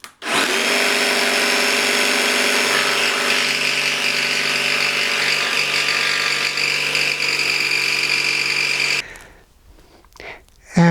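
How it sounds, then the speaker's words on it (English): A saber saw cuts through a wooden board for a greenhouse built from old windows, making a loud, continuous buzzing whine for about nine seconds, then stopping abruptly, with a few brief knocks afterward. "And I will cut this a little bit with a saber saw,"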